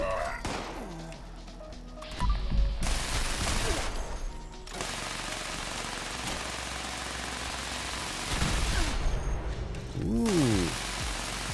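Gauss rifle fire in Fallout 76 comes in sharp bursts with whirring charge-up sweeps and mechanical clatter, with several shots spaced over the stretch. Game ambience runs between them and a voice speaks at times.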